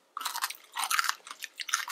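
Close crisp crunching as a pickled chili pepper is bitten and chewed, several sharp crackly bursts in quick rhythm separated by short pauses, with no talking.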